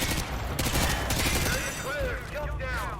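Gunfire in a Call of Duty video game, a dense fusillade of rapid shots crackling at moderate volume amid game noise and a few whistling sounds, with no clear talk.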